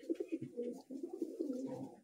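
Pigeon cooing softly and close, a steady run of low throaty coos repeating in quick rhythm with no one talking.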